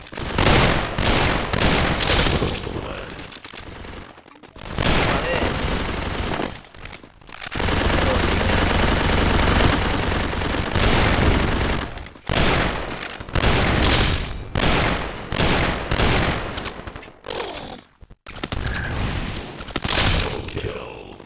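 Sustained rapid automatic gunfire from a 4v4 first-person shooter game, loud and dense, in long bursts broken by brief pauses, with occasional booms mixed in.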